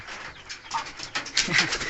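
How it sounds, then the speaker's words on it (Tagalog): A Belgian Malinois farm guard dog whines and whimpers close by in a rapid run of high, nasal cries that grow louder toward the end, with faint birdlike cooing mixed in. "Ito po ay Belgian Malinois."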